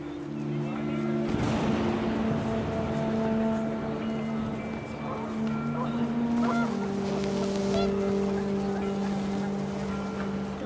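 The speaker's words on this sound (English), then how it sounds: "The wind picked up, and panicked geese appeared and quickly went." Panicked geese honk in What Remains of Edith Finch as the wind picks up at an outdoor gathering by a tent. Several bursts of honking and flapping rise over a continuous bed of music and ambient sound.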